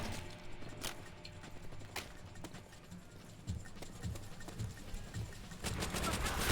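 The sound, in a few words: gunfire in Call of Duty World at War video game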